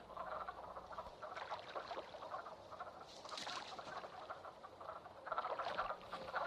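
A dense chorus of frogs croaks continuously in springtime Shenandoah, overlapping rasping calls swelling and fading in waves, with no voices.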